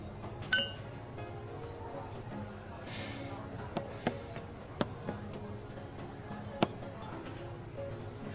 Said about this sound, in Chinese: 来来来， 干杯， 干杯，邢总，邢总。